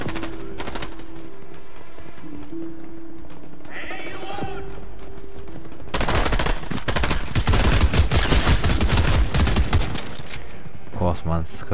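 Fortnite gunfire breaks out after a few quiet seconds of game sound: loud bursts of rapid shots and overlapping reports, with a voice talking at points throughout.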